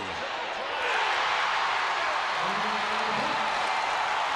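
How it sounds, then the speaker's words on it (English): Crowd at a Hope College versus Calvin College NCAA Division III men's basketball game swelling into a loud, sustained roar of cheering that fills the arena, with a commentator's voice underneath. "And the crowd erupts"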